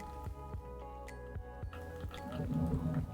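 An aquarium gravel vacuum is pushed into the gravel bed of a small cube tank during a water change, giving wet, irregular gurgling and sucking pulses that grow steadier and denser toward the end, with no talking.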